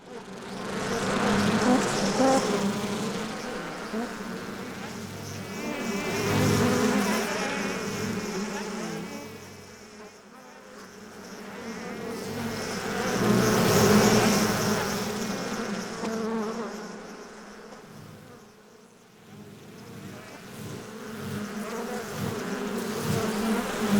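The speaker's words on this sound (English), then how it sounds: "that's quite simply how you create the panning effect" A buzzing bee drone that swells and fades in loudness, rising around the middle and end as if moving from side to side.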